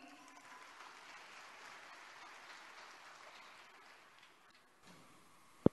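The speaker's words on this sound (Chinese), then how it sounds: "让我们掌声欢迎。" An audience applauding at a Buddhist Q&A gathering in Brisbane in 2018, a steady, fairly faint wash of clapping that fades near the end, finished by one sharp knock.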